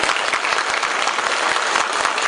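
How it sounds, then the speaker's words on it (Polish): Dense, steady applause from an audience at a political town meeting with a member of parliament in Radom, continuous clapping filling the room at close range with no pauses. "ale nie pan tak nie klaszcze, bo zaraz będzie pan klaskał"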